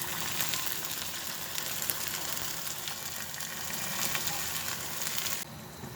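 Sardines and browning onions fry in a pan with a close, continuous crackling sizzle that holds steady and then cuts off abruptly near the end.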